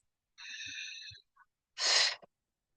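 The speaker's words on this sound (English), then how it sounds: "Take few deep breaths" Deep breaths during a yoga session of sun salutations, one long drawn inhale with a wheezy, whistling tone followed by a brief pause and a single forceful, breathy exhale, close and quiet, no talk.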